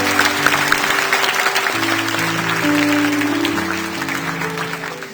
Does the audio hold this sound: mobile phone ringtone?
no